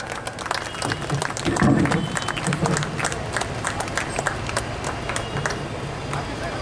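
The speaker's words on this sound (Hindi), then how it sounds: "एक जोरदार तालियों के साथ" A crowd at the annual function of Glowing Angels English School in Darbhanga applauds with dense, sustained clapping that swells briefly and then holds steady, with some crowd noise and voices underneath.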